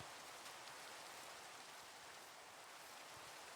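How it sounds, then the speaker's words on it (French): Soft, even patter of rain falling in the video game Minecraft, a faint continuous hiss that stays steady from start to finish with no voices. "Oh non, il pleut."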